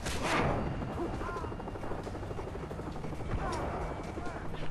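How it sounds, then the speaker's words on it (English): A helicopter hovers overhead in the first-person shooter Far Cry 3, its rotor drone running under gunfire, impacts and a shouting player throughout. "Aim right at the chopper and it's like, nope."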